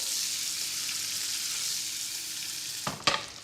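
Breadcrumbs and dill frying in butter in a hot pan give a steady, close sizzle throughout, broken near the end by a couple of sharp clinks or scrapes.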